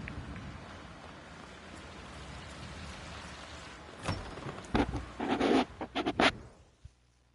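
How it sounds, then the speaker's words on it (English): Soft, steady rain patter for several seconds, then a few louder scratchy rustles and taps up close before fading to quiet. "It's raining outside."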